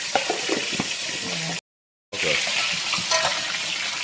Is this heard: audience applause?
no